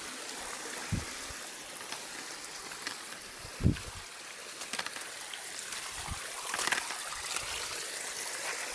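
A river stream flows steadily through a hunting area, its soft, continuous trickle and gurgle heard faintly with a few small splashes along the way.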